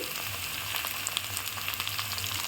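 Chopped green chilli sizzles and fries in hot oil for a Bengali tadka, a steady close crackle with small spits and pops throughout, no voices.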